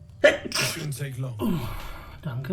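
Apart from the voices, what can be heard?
sneeze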